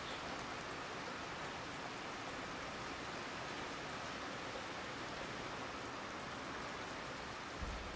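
Rain falls in the city-building game Foundation as a soft, even hiss of dense drops, steady and fairly faint throughout, with no other sounds standing out.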